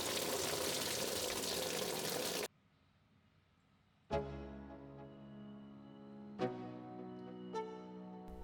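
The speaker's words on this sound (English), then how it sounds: "And then finally I fill it up with new, proper, mixed 50-50 coolant." Fresh 50-50 coolant mix is poured into the cooling system of an Opel Corsa, starting as a loud steady rush of liquid that cuts off abruptly, then giving way to a few sharp clinks and ringing metallic taps alone in a quiet space.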